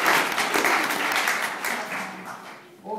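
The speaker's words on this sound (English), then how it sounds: "So give Kim a big clap" A bridal boot camp group claps for a participant, a burst of applause that starts strong, then gradually fades over about three seconds, with a brief voice at the very end.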